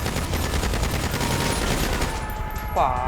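Sustained gunfire during a video game heist, a dense continuous rattle of rapid shots that fills the whole clip at steady loudness, with a faint ringing tone near the end.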